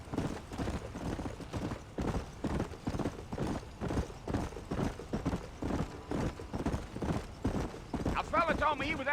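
Horse hooves clip-clop at a steady galloping rhythm in the Red Dead Redemption video game, close and continuous, with someone speaking over them and a brief whinny near the end.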